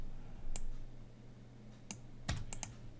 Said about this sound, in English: Double clicking inside this text